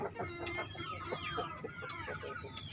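Chickens from breeding hen groups on a farm, several clucking and chattering close by in overlapping calls, steady and fairly quiet.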